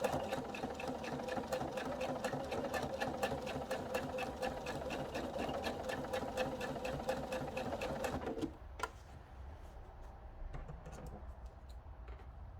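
A sewing machine runs steadily, stitching around a quilted peg bag for about eight seconds, then stops, leaving faint handling noises.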